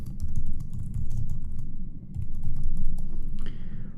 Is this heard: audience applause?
no